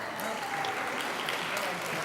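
A congregation at a Shabbat service and annual meeting applauds steadily for about two seconds, a dense even clatter of many hands heard from within the room.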